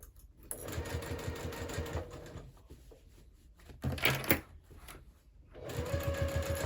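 A sewing machine sews the seam of a Divina handbag from Bagstock Designs at a half-inch seam allowance, running in close, rhythmic stretches of stitching broken by short pauses.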